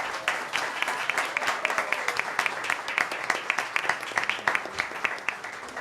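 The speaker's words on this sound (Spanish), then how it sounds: "Vamos a darles un fuerte aplauso." Audience applause for young academics at a university school's 55th anniversary celebration: a sustained, moderately loud round of clapping with many distinct claps, steady throughout, with faint voices in the background.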